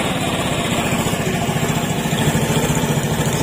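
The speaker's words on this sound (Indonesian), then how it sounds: "Jadi motor udah nyala, udah normal." A motorcycle engine runs steadily after repair, the bike having arrived in a messy state with its engine oil run dry; a continuous, fairly loud mid-pitched idle chugs with an even rhythm, close by and with no voices over it.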